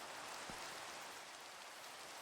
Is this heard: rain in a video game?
yes